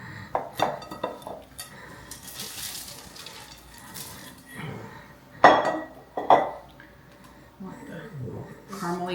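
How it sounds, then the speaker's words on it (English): Caramel popcorn poured from a bowl onto wax paper, irregular rattling clatters and a few sharp knocks from the bowl, with people talking in between. "I'm going to just kind of dump it out on the wax paper."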